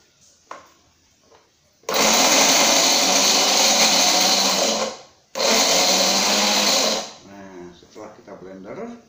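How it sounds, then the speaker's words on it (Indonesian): An electric blender whirs loudly as it blends cut ingredients for a herbal remedy, running in two long bursts separated by a brief pause, with someone speaking softly before and after. "kemudian kita blender, saudara-saudara, bisa kita blender seperti ini"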